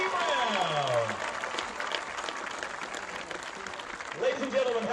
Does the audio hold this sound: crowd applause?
yes